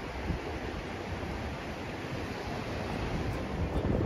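Waves on Cha-am beach in Thailand, heard as a steady, broad wash of surf mixed with wind buffeting the microphone, continuous and fairly soft with no voices.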